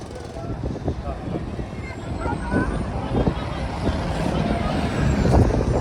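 A city bus from the transport network rumbles past on a street in Bissau, a steady low engine drone swelling slightly toward the end, with voices talking nearby.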